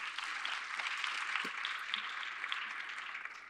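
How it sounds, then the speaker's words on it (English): Audience applause at a women's leadership and development conference panel, a steady dense wash of many hands clapping that holds evenly for the full stretch with no voices on top. "Je crois que ça s'applaudit."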